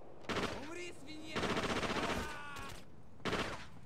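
Automatic gunfire in the SOCOM U.S. Navy SEALs video game, three loud rattling bursts of rapid shots, close and sharp, with a brief pause between each.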